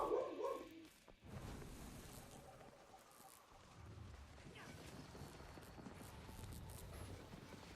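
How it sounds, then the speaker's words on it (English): Dogs bark in the Guild Wars 2 game world, several quick barks near the start, then quieter ambient game sound follows, fairly faint and slightly distant. "And there goes the dogs."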